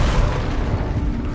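A Bombarda blasting spell explodes in the Hogwarts Legacy game, a loud, dense low rumble of blast and debris that continues steadily throughout.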